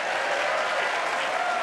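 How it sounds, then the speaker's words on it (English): Steady, dense applause from a crowd at a NASA event celebrating the OSIRIS-REx asteroid sample return, continuous and fairly loud throughout. "don't be afraid to clap or cheer"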